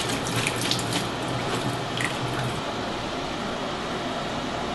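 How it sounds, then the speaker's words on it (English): Cold tap water runs over cooked noodles for jjajangmyeon, a steady close splashing stream that continues throughout with no talking. "The reason I'm rinsing in cold water is to make these noodles more"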